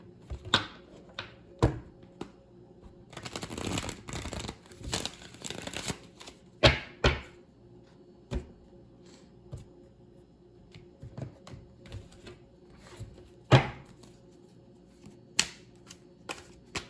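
A deck of Goddess Inspiration oracle cards is shuffled up close, with rapid riffling bursts, a longer flurry of shuffling, and scattered crisp taps and snaps as cards are squared and handled in a quiet room.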